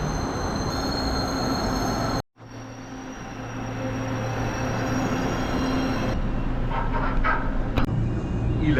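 Steady low rumble and rolling noise inside a moving train, with one sudden brief dropout and faint squealing wheel tones near the end, no voices.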